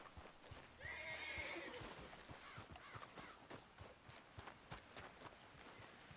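A spooked horse in Red Dead Redemption 2 gives a loud, shrill whinny, followed by steady clip-clopping hooves on the ground, with no talking.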